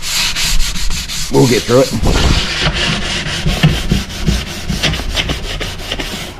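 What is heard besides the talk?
hand sanding varnish off wood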